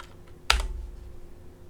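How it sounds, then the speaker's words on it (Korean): A single sharp key press on a computer keyboard, like Enter being struck during CAD drafting, lands close and clear in a quiet room. "아무 때나 클릭 엔터 엔터 엔터"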